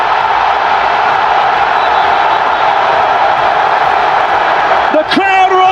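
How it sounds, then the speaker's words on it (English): A football stadium crowd roars in a loud, continuous wall of cheering after Raul Jimenez scores a penalty in a World Cup match, with a whistle-like shriek cutting through near the end. "The crowd are on their feet again!"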